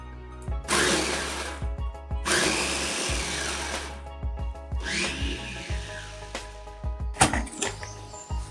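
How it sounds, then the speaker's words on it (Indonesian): A kitchen blender whirs loudly in several bursts while blending pandan leaves with water, each pulse starting abruptly, with clunks and handling noises between the runs. "Blender hingga lumat."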